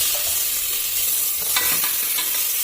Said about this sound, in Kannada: ಟೊಮೆಟೊ ಫ್ರೈ ಆಗಿದೆ ನೋಡಿ.